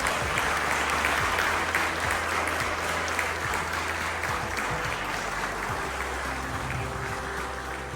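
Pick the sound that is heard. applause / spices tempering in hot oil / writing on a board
applause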